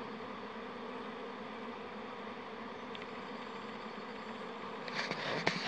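A dense hum of a swarming honey bee colony fills the air steadily, with a few louder rustles and thumps close by near the end.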